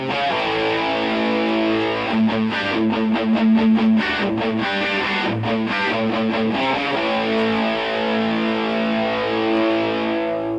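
Heavily distorted electric guitar plays a slow lick of sustained, bending notes over a steady overdriven drone, loud and continuous for about ten seconds with no voices.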